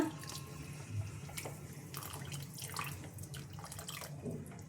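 Faint splashing and trickling of about a quarter glass of water poured into a pan of paneer matar masala, with a few light clinks, fairly quiet and close.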